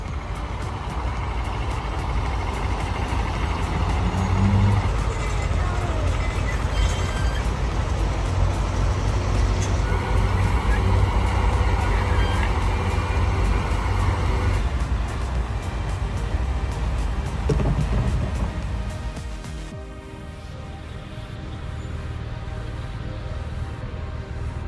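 A convoy of heavy transport trucks hauling super-heavy machinery, with a loud continuous diesel engine rumble and road roar, occasional higher mechanical tones, easing somewhat toward the end.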